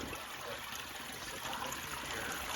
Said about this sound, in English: So we're just going to do it by siphon.